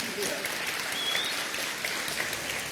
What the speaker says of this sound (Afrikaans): En ek dink klap bietjie vir Roan hande.